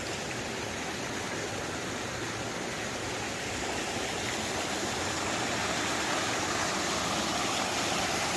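Creek water and the tail end of a waterfall along the Appalachian Trail, a steady broadband rush of flowing water that stays loud and constant throughout, close by, with no talking.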